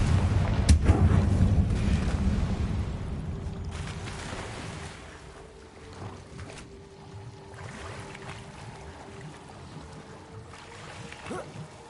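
A Confringo fire spell goes off in Hogwarts Legacy: a sudden loud blast that rumbles and fades into a low, murky ambience, followed by a few fainter thuds.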